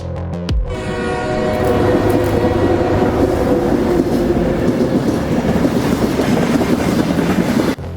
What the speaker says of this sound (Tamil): நம்ம இப்போது அந்தோதயா எக்ஸ்பிரஸில் தான் ட்ராவல் பண்ணிக்கிட்டு இருக்கோம்.